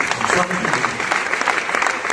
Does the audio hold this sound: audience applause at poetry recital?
yes